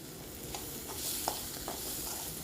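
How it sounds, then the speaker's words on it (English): Ivy gourd stir fried with sambar powder in a pan, soft occasional scrapes of a spatula over a faint steady sizzle, quiet and close, with no voices. "So until the oil comes out. And stir it very well."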